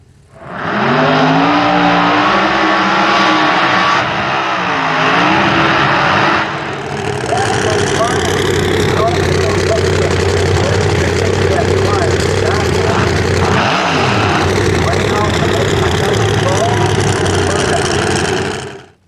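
A funny car drag racer powered by a 540-cubic-inch big block Chevy engine, roaring loud and close at full throttle for nearly twenty seconds, its pitch rising and shifting, then cutting off abruptly at the end.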